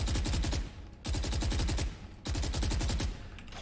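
Automatic rifle in the tactical shooter Valorant firing three controlled bursts of rapid shots, each a dense, loud rattle of gunfire separated by brief pauses.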